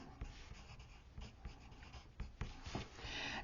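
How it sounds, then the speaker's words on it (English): Pen writing numbers on paper while working out crochet sock heel stitches: soft, close scratching strokes in short bursts, quiet and without speech. "So let me write this down for you."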